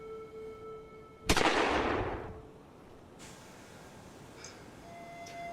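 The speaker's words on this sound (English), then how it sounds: "Where there are pistol shots," A single sharp pistol-shot sound effect goes off in a stage play and rings out with a long, echoing decay in the theater. A few faint clicks follow in the quiet afterward.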